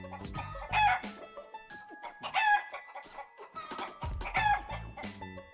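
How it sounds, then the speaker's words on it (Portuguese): A farm hen clucks in several loud, close bursts with short gaps between them, and no voices are heard. "Nossa amiga galinha."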